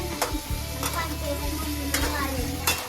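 Eggplant being stirred in oil with onion masala, a steady close sizzle with several sharp scraping strokes of a spoon against the pan at intervals, no voices.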